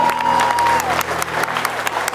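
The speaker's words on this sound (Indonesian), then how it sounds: "tepuk tangan buat mereka sekali lagi" An audience applauds ballet dancers on a television judging show, a close, steady burst of clapping with light cheering while a voice talks faintly over it.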